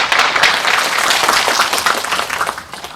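Warm applause from an audience at a community welfare center's results-sharing event, dense clapping that holds steady and then starts to taper off near the end.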